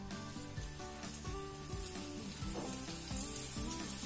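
Oil poured around a khichdi paratha on a hot tawa gives a steady hissing sizzle that swells partway through, heard beneath tonal background music.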